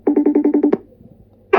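A phone ringtone sounds as a quick run of about eight rapid, evenly spaced beeps, loud and close, then a pause and the start of another ring.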